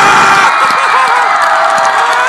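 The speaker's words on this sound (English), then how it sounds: "the whole crowd was just excited because it hadn't happened" A crowd roars and cheers at a varsity basketball game after a player's first three-pointer, a loud, dense wall of shouting and whooping that fills the whole moment.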